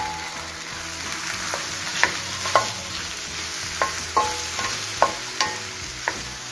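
Chopped onion frying over medium heat, a continuous sizzle broken by repeated scraping knocks of a utensil stirring the pan, roughly one every half second or so, with nobody speaking.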